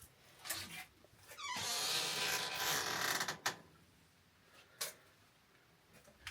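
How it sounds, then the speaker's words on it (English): An old wooden door of a 900-year-old church creaks open with a long, grinding groan, followed by a few sharp knocks and clicks in a quiet space. "Old door."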